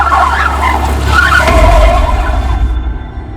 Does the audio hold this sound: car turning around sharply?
yes